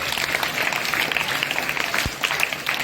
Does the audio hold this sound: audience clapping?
yes